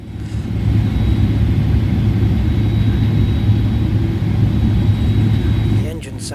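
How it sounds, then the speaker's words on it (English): Boeing 737-800 jet engines in Microsoft Flight Simulator hum with a strong low steady roar and a faint thin whine above it, holding level for several seconds before easing off at the end. "The engines sound pretty cool"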